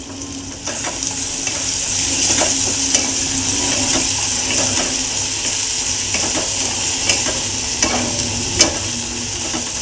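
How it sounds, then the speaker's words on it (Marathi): Red chilli masala roasting in oil in a pan while being stirred, a continuous loud sizzle with scattered spoon scrapes and clicks against the pan and no talking. "हे सर्व तेलात भाजून झालं की आपण मटकी टाकायची आहे"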